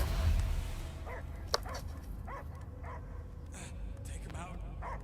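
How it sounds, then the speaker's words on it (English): Dog barks from the Guardians of the Galaxy video game, a few short yips and woofs scattered across the stretch, moderately close and mixed under game dialogue and background sound. "நாய் குலைக்குது எனக்கு."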